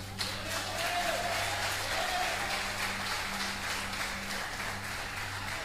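A church congregation applauds for Jesus during a sermon, a faint, steady patter of clapping over a low electrical hum.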